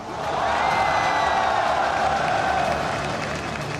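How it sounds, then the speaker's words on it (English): Arena crowd at the MSI 2018 League of Legends opening ceremony breaks into loud, sustained applause and cheering, a dense roar that holds steady for several seconds before easing slightly. "un tonnerre d'applaudissements pour Karsa."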